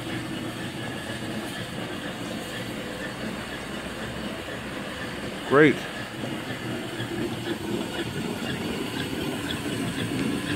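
A 2.5-inch three-chime steam whistle on a steam donkey boiler gives one short, loud blast over a steady background hiss, with a voice speaking briefly nearby.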